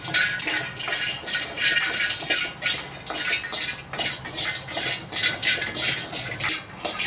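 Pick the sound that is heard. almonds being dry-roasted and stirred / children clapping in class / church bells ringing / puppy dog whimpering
almonds being dry-roasted and stirred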